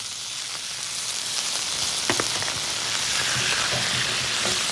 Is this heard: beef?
yes